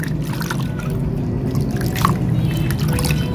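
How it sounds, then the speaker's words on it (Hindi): Hands are washed under plain water, a close, continuous trickling and splashing with small drips and slight variations as the hands move. "फिर नॉर्मल पानी के साथ धो लेना है ऐसे।"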